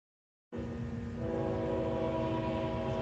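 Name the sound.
train passing through Baxley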